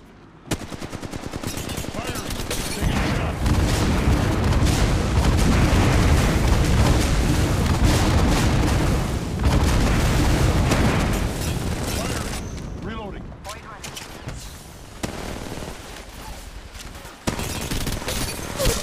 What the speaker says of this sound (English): I think I may have been signaling an airstrike.